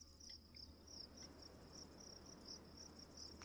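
Crickets chirp in a steady, continuous high trill, laid over a faint background hiss as a summer-night ambience sound effect.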